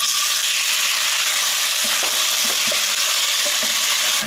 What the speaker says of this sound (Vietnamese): Dầu nóng rồi thì cho thịt gà vào xào.